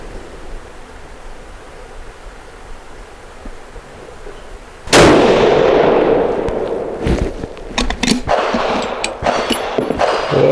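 A .28 Nosler rifle, a Magnum Research Mountain Eagle custom build, fires one sharp, loud gunshot after a quiet start, followed by ringing echo and scattered clicks and knocks from handling the gun.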